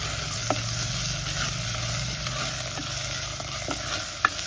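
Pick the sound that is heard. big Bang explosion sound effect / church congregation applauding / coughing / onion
onion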